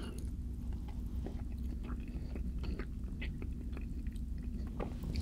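Close, wet chewing and soft biting of homemade spicy, cheesy enchiladas with sticky mouth clicks and smacks, quiet and continuous, with no talking.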